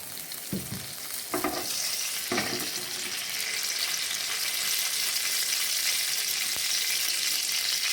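Oil heats in a pan for Malaysian prawn sambal, giving a steady, fairly quiet hiss and sizzle with a few brief clinks and stirring knocks early on, close by and without talk.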